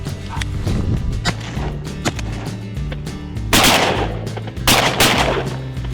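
Gunshots while hunting wild game outdoors: scattered sharp cracks, then two loud, heavy blasts close together in the second half.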